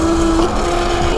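Yozma IN10 electric bike motor running at a steady, loud whine with a sustained tone throughout, close up and alone, out on a trail.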